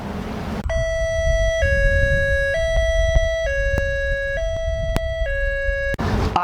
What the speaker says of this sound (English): The high-low siren is a new sound to help you stay safe in an emergency.